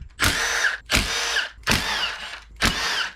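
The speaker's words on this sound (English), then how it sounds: "We'll go ahead and remove the side cover bolts." A power drill whirs in four short bursts, loosening the side cover bolts on a Predator 212 small engine, each burst starting with a sharp rise and cutting off, close up.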